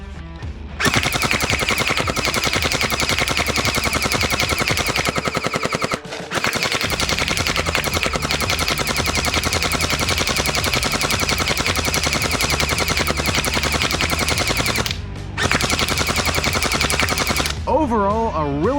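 An XShot Hyper Gel Trace Fire gel blaster fires on full auto in long, loud, rapid bursts that run almost without a break, with two short pauses between strings of shots.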